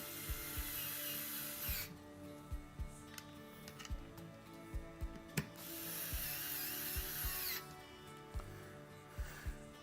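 Small Wow Stick electric screwdriver driving screws into a PC case during a build, with two bursts of thin motor whine separated by ratcheting clicks and light taps, close and fairly quiet.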